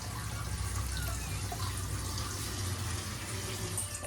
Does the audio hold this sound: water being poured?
yes